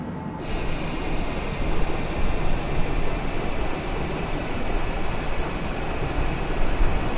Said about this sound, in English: Hear the auto throttle